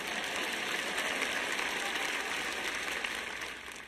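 Church congregation applauding during a sermon, a dense, even wash of clapping that holds steady and then begins to fade near the end.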